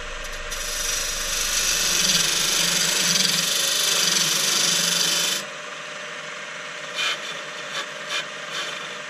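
A wood lathe turns a small piece while a tool cuts a tenon, a steady close whirring rasp for about five seconds that stops abruptly, followed by a few faint taps in near silence.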